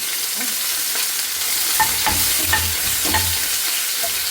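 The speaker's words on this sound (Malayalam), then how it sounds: "ചെറിയ ഉള്ളി മൂത്ത് വന്നിട്ടുണ്ട്" Small shallots frying and being stirred in a pan for a mutton liver roast, a steady oil sizzle with a few scraping stir strokes, close and alone with no talk.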